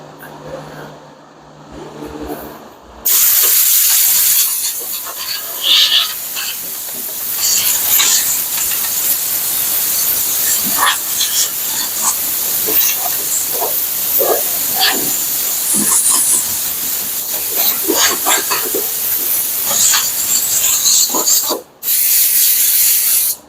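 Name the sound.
spraying Rust-Oleum rust reformer on a 1975 Plymouth Duster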